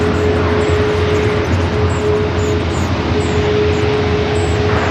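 Airliner noise at LAX near a JetBlue jet with an unusual nose, a loud continuous wash of engine roar with a steady whine, unbroken for the whole stretch, no voices.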